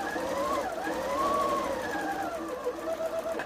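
A sewing machine runs continuously while chain piecing fabric, a steady close mechanical whir with shifting pitch as the speed changes, and it slows briefly near the end.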